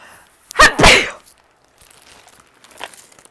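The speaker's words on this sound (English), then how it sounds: "I gotta sneeze." Two sharp sneezes in quick succession, close and loud, followed by faint crinkling and shuffling sounds while sorting through a thrift store jewelry lot.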